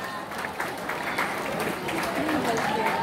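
Audience applause for the guests at a madrasah tahfidz graduation ceremony in Pekanbaru, a steady, full clapping from a large crowd in a hall, sustained throughout with a voice speaking over it.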